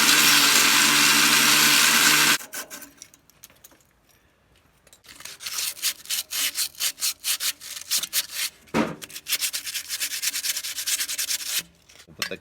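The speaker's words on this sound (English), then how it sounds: "the next thing we're going to do is cut off this bolt" Cutting off a bolt on the exhaust of a Massey Harris 50 / Massey Ferguson 50 tractor: a loud continuous burst, a pause, then rapid rasping strokes in a steady back-and-forth rhythm, close up and without talk.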